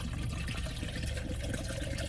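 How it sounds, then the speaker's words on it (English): A drink is poured into a cup, making a continuous close liquid trickle and fill that runs steadily for about two seconds with no voices. "So I'm gonna pour this into my cup."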